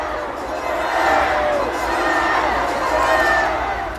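A large crowd at an outdoor political rally in Yeouido, Seoul shouts slogans in unison, a dense, sustained roar of many voices.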